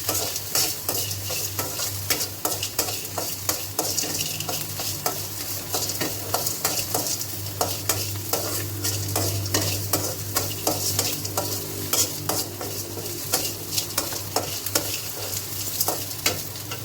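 Onions with salt sauté in a pan for coconut chutney, giving a steady close sizzle broken by rapid, regular spatula scrapes and clicks throughout, with no voices.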